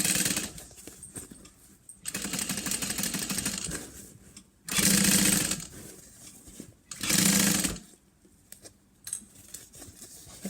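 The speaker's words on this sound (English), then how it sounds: "I love to stitch the opening shut." Sewing machine running in several bursts while stitching the opening of a fabric lunch box shut, with a rapid mechanical whir and pauses between runs, close and alone.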